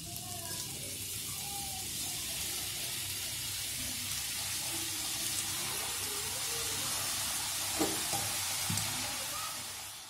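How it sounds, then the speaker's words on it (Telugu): Onion samosas deep-frying in hot oil over a medium flame make a steady, soft sizzle throughout, with faint bubbling and an occasional light clink near the end. "ఇప్పుడు మన సమోసాలను ఒక్కొక్కటిగా వేసుకుంటూ మీడియం ఫ్లేమ్ లో"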